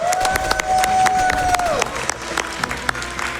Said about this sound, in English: could we get one more cheer for the devs?